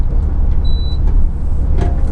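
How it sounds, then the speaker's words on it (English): A short electronic beep from a truck's electronic logging device switching automatically sounds once over the steady low rumble of the cab on the road. "That beep that you just heard there is my E-log switching automatically"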